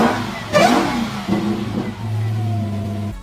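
A Dodge Challenger Demon 170 V8 revs hard, one sharp throttle blip rising and falling, then a second rev and a steady, loud, deep idle-like hold, close and alone before a brief click at the end.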